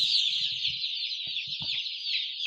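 Banaraja chickens, a fast-growing breed much like Sonali, kept with chicks, give short bursts of low clucking against a constant shrill high-pitched background.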